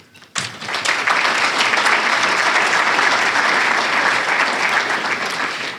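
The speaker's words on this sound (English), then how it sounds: "just some applause for all of the winners today" An audience breaks into applause for the winners at a small business awards ceremony. The clapping starts suddenly, stays loud and dense, and holds steady for several seconds.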